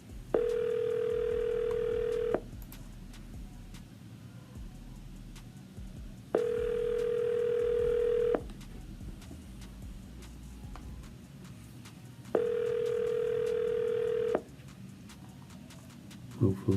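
A phone call's ringback tone purrs through a speaker in three steady two-second bursts spaced about four seconds apart, even and moderately loud, with quiet room noise between rings.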